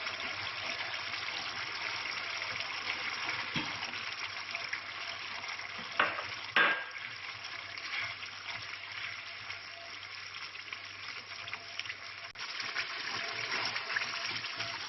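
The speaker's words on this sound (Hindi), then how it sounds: "अब हम इसमें टमाटर का पेस्ट डालेंगे" Tomato paste sizzling in a pan of chicken karahi after the cooking liquid has nearly dried off, a steady hiss of frying with a couple of brief clinks or stirs partway through.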